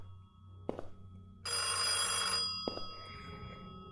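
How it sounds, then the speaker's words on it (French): An old-fashioned telephone bell rings in the VR horror game Affected: The Manor, a loud metallic trill that bursts in for about a second inside a quiet, echoing room, with a few knocks before and after. "Ah c'est un téléphone, ok."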